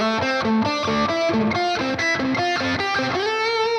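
A distorted electric guitar plays a quick one-string rock blues lick, alternating notes against two back-to-back pedal tones in a steady rhythm, loud and up close.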